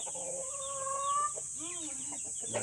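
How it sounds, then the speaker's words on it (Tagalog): Chickens on a farm with Rhode Island Red, Black Australorp and Light Sussex breeder birds cluck and call close by, a short rising crow-like cry among the clucks over a faint steady hiss. "Ay, tandang. Rooster. Reserve rooster."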